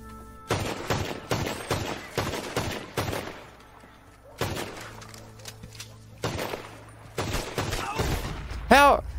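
Rapid bursts of gunfire in the Red Dead Redemption 2 video game, several loud volleys of sharp shots in clusters with short pauses between, heard close with game sounds in the background.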